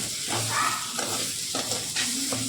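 A spatula scrapes and stirs a thick mash of beans in a wok in repeated strokes, with a light sizzle of frying underneath.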